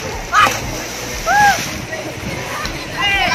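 Someone jumps into a river while out location scouting in Bansud and Socorro, Oriental Mindoro, making a short splash and sloshing water, with excited voices calling out and shouting before and after.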